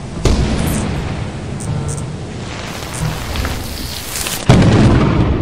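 Heavy thunder cracks and rumbles over steady rain in Lethal Company, with a sharp close lightning strike near the start and another loud crash toward the end.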